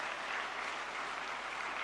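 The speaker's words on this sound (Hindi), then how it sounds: "तालियों का सिलसिला बंद नहीं होना चाहिए" A large audience claps steadily at the inaugural session of Yoga Connect 2025, organised by India's Ayush ministry, a continuous, even roar of hands that holds at the same level throughout.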